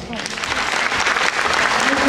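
A close, loud burst of audience applause at a hairdressing gala, thick clapping swelling over about two seconds while a voice talks beneath it.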